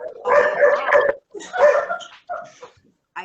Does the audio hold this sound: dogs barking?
yes